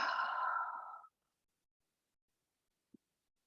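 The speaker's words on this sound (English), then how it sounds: "Big deep breath." A single deep, audible exhale during a shoulder mobility stretching session, close and clear for about a second, followed by silence and a faint soft thump.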